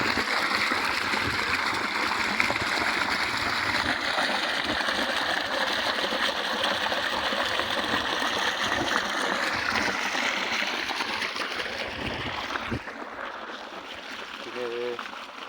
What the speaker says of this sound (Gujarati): આટલું પાણી આવે છે।